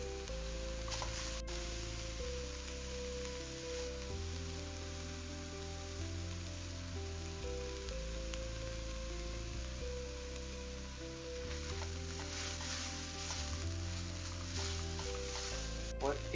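Garlic and ginger paste sizzles in a pan of fried onions for a black chickpea masala, a steady soft crackle running under a low continuous hum, with a few brighter bursts of frying near the end.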